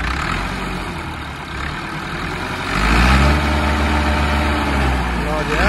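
A vehicle engine idles with a deep, heavy rumble, then is revved about halfway through, growing louder and rougher before holding at a raised pitch, close by.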